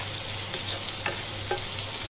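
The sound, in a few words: onions frying in pan with salt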